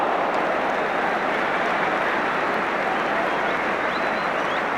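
A football stadium crowd applauds a fine save by goalkeeper Ray Clements, a dense, sustained wash of clapping from many spectators that holds steady throughout.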